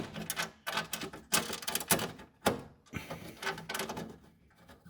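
Metal clips shifted and rattled by hand while bolts are started on an oil cooler, giving a string of close, sharp clicks and clatters in irregular bursts with short pauses between them.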